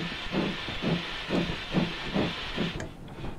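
A simulated Ivatt steam locomotive on the North Somerset Railway chuffs in a steady rhythm as it picks up speed, each exhaust beat a soft low puff over constant hiss, with no talking.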